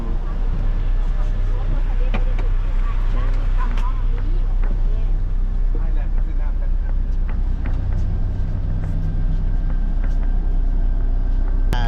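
Steady low engine rumble and road noise fill the interior of a moving vehicle on the way to the Thai border, loud and constant, with occasional knocks and rattles and people talking over it.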